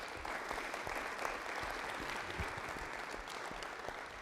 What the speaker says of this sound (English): Can we give our sponsors a round of applause?